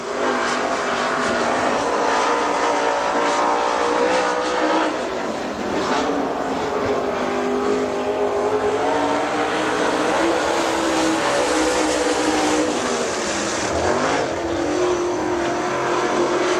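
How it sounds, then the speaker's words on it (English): Dirt track race car at Dixie Speedway running a two-lap qualifying run, its engine droning loud and continuous throughout with rising and falling pitch as it circles the track, no talk over it. "As Chris Fennell out of Dallas, Georgia, he'll be up next for his 2-lap qualification."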